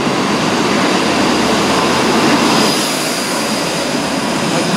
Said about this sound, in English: Next train to pull out of Nottingham is the Class 43 HST service.